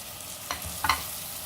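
Taro and potatoes tossed into a pan of frying onion and tomato for a Sindhi-style mixed vegetable dish, heard as two short, close scraping and sizzling bursts over a low, steady frying hiss.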